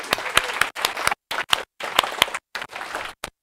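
Students in a university database-systems lecture hall clap for the DJ in short, choppy bursts broken by brief silent gaps, with a few sharp, close claps standing out.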